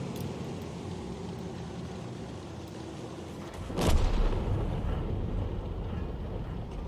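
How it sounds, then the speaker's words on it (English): A T92 HMC self-propelled artillery gun fires in World of Tanks, one heavy booming shot midway through, with a low rumble trailing off over a steady engine-like background drone. "Rounds out on the Panzerkampfwagen 7, and it was a direct hit."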